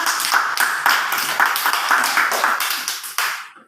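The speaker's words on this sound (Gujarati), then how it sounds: "તો ચાલો કૃષ્ણાબેન માટે તાળી પાડી દો બધા." Group of anganwadi children clapping together for a classmate named Krishnaben: loud, close, fairly steady patter of many hands with rhythmic peaks, running throughout and ending abruptly, no talking.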